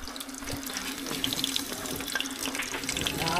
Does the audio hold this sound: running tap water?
yes